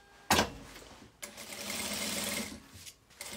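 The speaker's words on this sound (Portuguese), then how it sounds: "Então, eu vou costurar aqui, ó." A sewing machine stitches a fabric bag in two loud bursts, a short run near the start and a longer steady whirr afterward, heard alone at close range.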